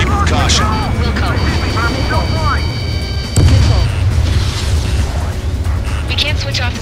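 An explosion in the combat flight game Ace Combat 7 booms over loud jet engine roar, with radio voices talking over the action.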